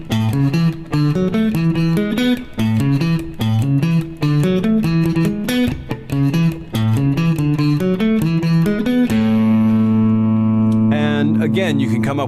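A reggae stick guitar arpeggiates chords low in the bass register, a steady run of short, clipped picked notes that ends on a sustained ringing chord.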